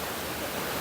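Steady, close roar of the Watu Ondo waterfall in Cangar, Batu, East Java, a dense broadband rush of falling water that stays loud and unbroken throughout, with no voices.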